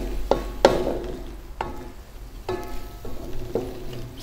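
A spoon strikes and scrapes a pot of Turkish meatball yogurt soup, with several distinct clinks spaced through a soft simmering hiss, close and clear, no voices.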